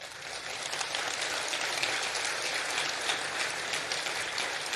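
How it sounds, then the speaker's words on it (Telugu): Audience clapping at a spiritual discourse by Sri Ganapati Sachchidananda Swamiji: a dense, steady wash of many hands applauding together, sustained at an even level throughout without any voices. "ఇప్పుడు చప్పట్లు కొట్టారు కదా"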